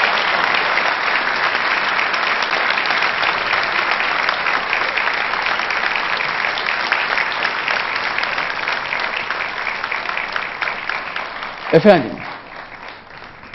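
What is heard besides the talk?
audience applause for the choir conductor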